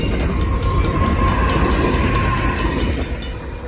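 CN heritage-unit locomotive 3023 rolls past near the tracks, a loud, steady rumble of engine and rail cars with a thin metallic whine running through it.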